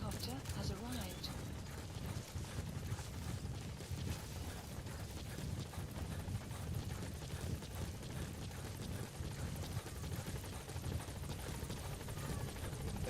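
The support helicopter in Metal Gear Solid V produces a continuous, dense rotor roar and whir that stays steady and even for the whole stretch, with no voices over it.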